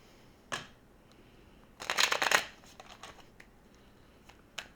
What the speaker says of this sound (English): Let's shuffle and start from the beginning.